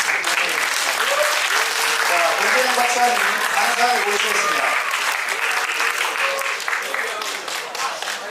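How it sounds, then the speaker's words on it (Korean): An audience welcomes a guest lecturer at a high school talk with steady, warm applause that fades slightly toward the end, while someone speaks over it. "다시 뜨거운 박수로 권대현 박사님을"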